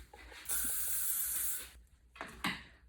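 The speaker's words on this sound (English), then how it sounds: "Then we're going to get a bit of hairspray." Hairspray hisses from a can onto styled hair in a steady burst of about a second, followed by two shorter spritzes, close and fairly quiet.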